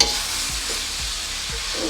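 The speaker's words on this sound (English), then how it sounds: "As soon as the sauce hits the pan, it's going to cook up" Soy sauce for chow mein hits a hot pan and sizzles in a loud, dense hiss, with soft rhythmic stirring thumps underneath.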